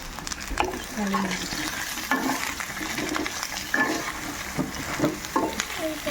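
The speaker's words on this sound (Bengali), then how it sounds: "ব্যাস, এবার শুধু নাড়াচাড়া করে যাবো।" Spatula scraping and stirring pointed gourd with turmeric in a pan over a steady frying sizzle, with repeated clattering strokes and no voices.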